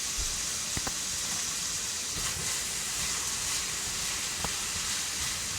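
Three strips of bacon sizzle in a pot at the start of a southwestern-style black bean soup, a steady close hiss with a few faint pops and clicks and no talking.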